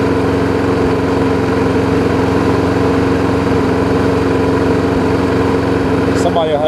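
A Briggs & Stratton lawn mower engine on a nearly new deck runs at a steady, loud drone close by, its even hum holding without a break.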